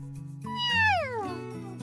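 A cat gives one drawn-out meow that rises and then slides down in pitch, loud and close, with no talking over it.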